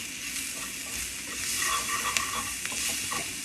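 Garlic sizzles steadily in a hot frying pan, a close, even crackle with a few sharper pops and stirring scrapes as it cooks, no voices over it.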